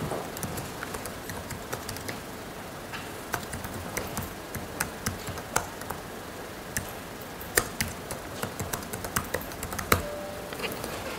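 Typing on a computer keyboard while writing a one-line code comment in 3D modelling software, a steady stream of light, irregular key clicks close to the microphone with occasional louder taps.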